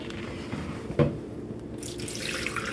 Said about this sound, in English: our first step is going to just be adding some water